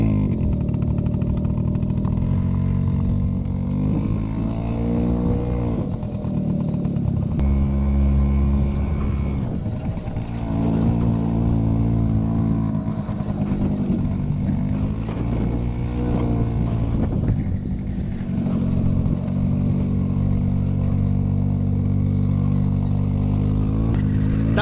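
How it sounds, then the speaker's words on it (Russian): A moped ridden through a village near Chernobyl buzzes loud and close the whole time, its small engine rising and falling in pitch as it speeds up and eases off, with no talking. "Влад дал мне свой мопед, я сейчас, короче, немножко на нем прокачусь по деревне."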